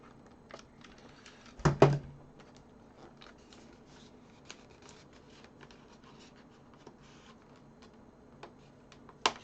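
Keys are pressed on a Framework 16 laptop keyboard with a British English layout: sparse, quiet clicks and taps in an otherwise hushed room, with one louder rustling clatter near the start.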